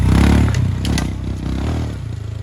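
A Royal Enfield Himalayan motorcycle engine thumps loud and close as it climbs a steep off-road hill, a pulsing low chug with rattling clatter and scrapes from the rough terrain.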